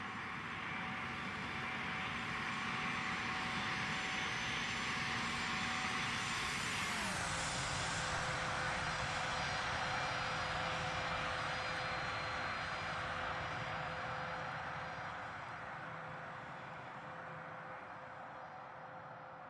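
Simulated Aerosoft CRJ900 jet in Microsoft Flight Simulator during its landing flare, a steady loud engine drone whose whine drops in pitch partway through as thrust comes back, then continues evenly and fades slightly at the end.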